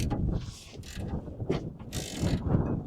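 Ratchet cranking loose a Loctited rear brake caliper bracket on a 2012 GMC Yukon, a steady run of close, rapid clicks with bursts of harder ratcheting and low mechanical rumble underneath, no talking.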